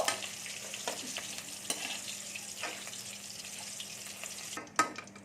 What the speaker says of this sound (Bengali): কাঁচা লঙ্কাটাকে কিন্তু মাঝে মাঝে কেটে নেবেন, নাহলে ফটফট করে